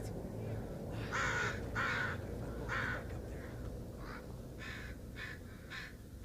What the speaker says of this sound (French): Oh, des corbeaux.